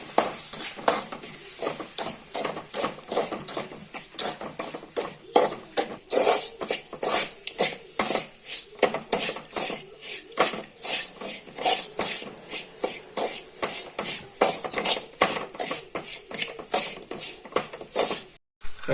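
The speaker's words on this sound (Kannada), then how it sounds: "ಸ್ವಲ್ಪ ಹಾಲು ಸೇರಿಸಿ ಒಳ್ಳೆ ಮಾಡಿ ಮಿಕ್ಸ್ ಮಾಡುವ." Rava laddu mixture of semolina and milk being mixed by hand or spoon in a vessel, giving a steady run of rapid scraping, rubbing and light clinking strokes, close and continuous with no talk.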